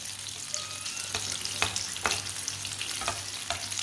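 A besan breakfast fries in oil in a pan, giving a steady close sizzle with several sharp clicks and scrapes from stirring, and no voices.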